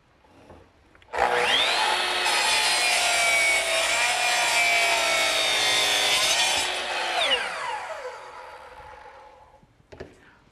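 A miter saw's blade whines up to full speed, then cuts through wood with a loud, sustained grinding roar for several seconds. Its pitch drops as the blade winds down, followed by a faint clack.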